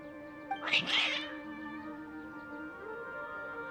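A cat's agitated meow rises briefly and fairly loud over a quiet tonal game background in Genshin Impact, then fades, leaving the soft ambient hum.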